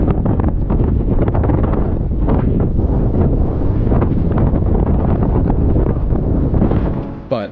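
Strong, continuous wind roar buffets a chest-mounted camera on a bicycle during a windy RAGBRAI ride, loud and unbroken for several seconds before easing off at the very end.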